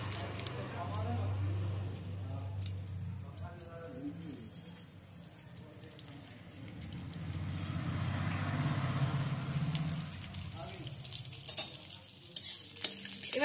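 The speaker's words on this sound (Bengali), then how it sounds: "এবার এগুলোকে আমি হালকা আঁচে ভেজে নিচ্ছি।" Mustard seeds, chana dal and curry leaves frying on low heat, a steady soft sizzle with stirring scrapes, heard close throughout alongside low background noise and some faint bird calls.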